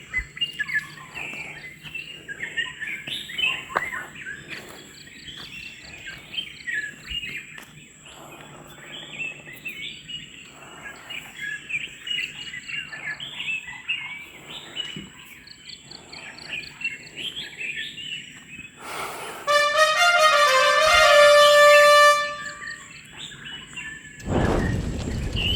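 A Blyth's reed warbler sings a continuous, busy stream of chattering phrases in the Western Ghats near Banda Sawantwadi, against a steady insect drone, with a louder burst of rapid notes near the end.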